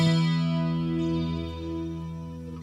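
An acoustic guitar chord rings out through a chorus effect, its shimmering sustained tone slowly fading over a few seconds, played alone.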